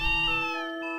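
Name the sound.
cat meowing in video game Breath of Fire IV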